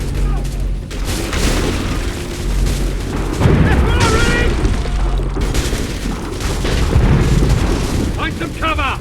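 Incoming artillery shells explode in Assassin's Creed III battle gameplay, heavy booms and rumbling blasts rolling continuously over about nine seconds, loud and close, with shouted voices mixed into the din.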